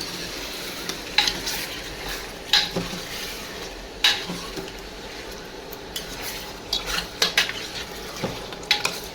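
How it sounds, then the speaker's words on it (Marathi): A ladle stirs chicken in a pot over a soft steady sizzle, producing repeated scraping swishes and irregular metallic clinks and taps at close range. "मिक्स करून घ्यायचं चांगलं हे पळीनं."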